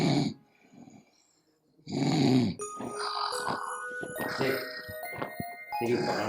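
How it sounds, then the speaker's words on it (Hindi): A woman snores in heavy, grunting bursts with quieter breathing gaps between them, close and fairly loud, while people talk over part of it. "तेरी बहन कैसे खर्राटे कर रही।"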